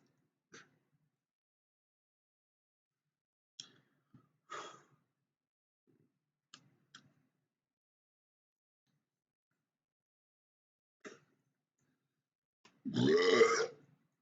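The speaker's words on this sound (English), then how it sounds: "I'm burping" Burps after a person drank Coke with Mentos: several short, soft burps scattered through near-quiet, ending in one louder, longer belch close by.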